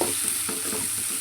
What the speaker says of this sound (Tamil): இப்போ நல்லா தக்காளி வெங்காயம் நல்லா வணங்கட்டும்